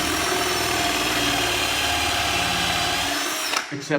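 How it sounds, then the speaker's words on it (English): A power drill with a step drill bit whines steadily, boring through material for a few seconds during a timber mantel install, then stops, leaving faint clatter. "That's called the step drill."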